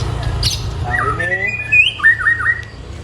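A white-rumped shama songbird calls and whistles at close range in a brief phrase of sliding, rising and falling notes over a low background hum.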